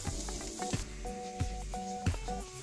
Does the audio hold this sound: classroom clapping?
no